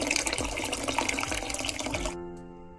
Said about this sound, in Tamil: இந்த அரிசி அவியறதுக்கு அளவான தண்ணியை விட போறேன்.